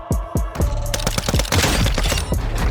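Rapid suppressed pistol gunfire in Warzone Mobile, sharp repeated shots in quick succession, loud and close, with a muffled, dampened character.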